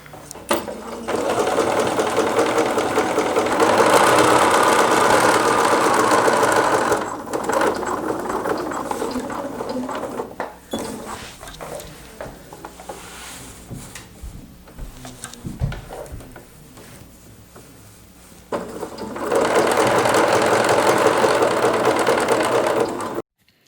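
A home sewing machine stitches mitered corners on cloth napkins, whirring loudly in long steady runs that stop briefly while the presser foot is lifted and the fabric is turned, then start again.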